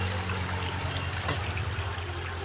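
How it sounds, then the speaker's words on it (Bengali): Close, steady trickle of running water splashing over rocks from a small mountain waterfall flowing down from high on a hill, with a low rumble underneath and no talking. "আর একটা পাহাড়ি ঝর্ণা, ঠান্ডা পানিগুলা, ছোটোখাটো ঝর্ণা"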